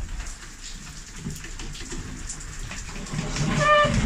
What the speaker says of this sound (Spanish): Todo está lloviendo, mira. Está cayendo agua aquí